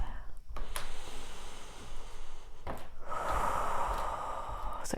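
Deep, slow breaths during a restorative yoga session in the Viparita Karani legs-up-the-wall pose, with a sharp inhale early and a long, airy exhale swelling near the end, close and fairly loud.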